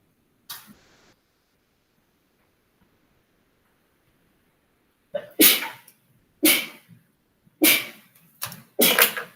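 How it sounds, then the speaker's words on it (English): A person sneezes close by: one sharp sneeze, a pause of several seconds, then four loud sneezes in quick succession, with no talking around them. "That was a lot of sneezes."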